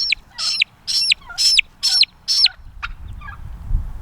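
A young bird, likely a chick, gives a run of six loud, evenly spaced high calls, then a few shorter fainter peeps over low background rumble, close to the listener.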